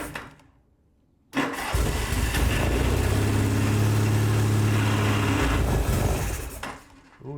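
A Norton motorcycle engine turning over at its first start, the starter engaging and then a loud, steady rumbling run that lasts several seconds before fading, with no talking.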